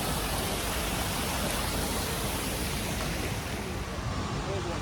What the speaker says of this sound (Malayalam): ഫൗണ്ടെയിൻ ഉണ്ട്.